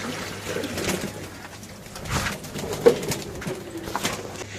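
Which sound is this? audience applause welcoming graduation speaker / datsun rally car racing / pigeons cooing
pigeons cooing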